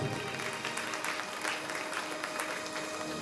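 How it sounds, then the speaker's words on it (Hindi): An audience at a Bhagwat Katha religious discourse claps loudly and steadily, dense applause filling the whole moment from start to finish. "एक बार जोरदार ताली तो बजा दो,"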